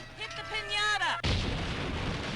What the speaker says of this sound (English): Really big explosion.